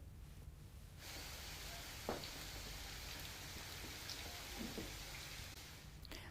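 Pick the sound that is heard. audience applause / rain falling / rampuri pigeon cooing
rain falling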